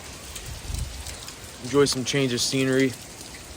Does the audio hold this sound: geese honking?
no